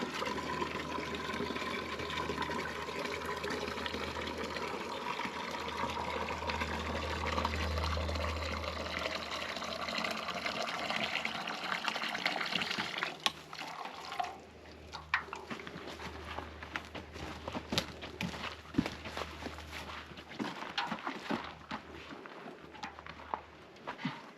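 Water pours steadily into the radiator of a 1927 Model T speedster, a continuous close splashing fill that thins into lighter trickles and drips partway through.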